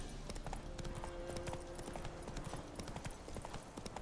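Roach, a horse in a fantasy video game, trots with steady, close clip-clop hoofbeats that run throughout, mixed with game ambience and occasional faint snorts.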